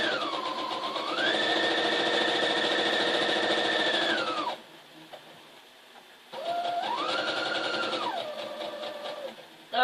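A sewing machine stitches a flag in two close, loud bursts, its motor pitch rising and falling with speed, separated by a pause of quieter handling noise.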